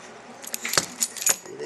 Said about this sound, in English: She's chewing on the keys